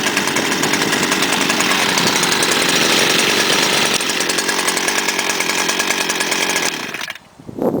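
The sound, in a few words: STIHL FS-250R trimmer/brushcutter engine running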